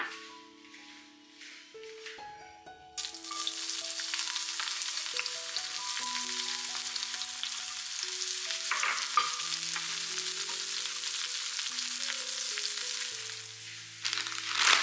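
Onion, chili and other chopped vegetables sizzle and fry in a hot pan, with a loud, steady crackling hiss starting after a few seconds of quieter handling sounds and lasting to the end, close and without talk.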